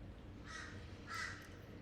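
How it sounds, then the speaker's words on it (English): Two crows caw in the background of an early-morning outdoor setting, each call a short burst spaced about half a second apart, moderately distant over a low ambient hum. "I love hearing the birds in the background"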